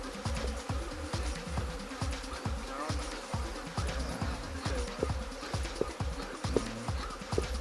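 Honey bees feeding on honey in the comb make a steady, close buzzing hum that continues throughout, with small crackling movements under it.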